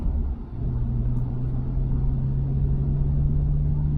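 A Nissan Skyline R34 GTR V-Spec drones steadily from inside the cabin while being driven, its engine a low, even rumble that holds constant throughout.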